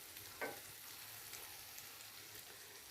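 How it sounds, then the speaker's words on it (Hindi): Beef karahi gosht sizzles quietly in a pan, with a soft steady frying hiss and one brief scrape of stirring early on. "मज़ीद मैं इसको सिर्फ 5 मिनट भून लूँगी"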